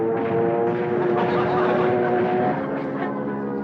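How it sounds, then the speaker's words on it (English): A single enemy propeller plane droning overhead in broad daylight, a loud steady engine hum that swells and fades slightly over the whole stretch, with speech faintly mixed in. "A single plane making a pass in broad daylight"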